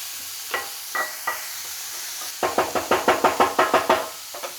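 Tomato, onion and capsicum cooking in a pan, heard as a run of sharp rhythmic stirring scrapes and clatters over a light sizzle, sparse at first and then quick and steady.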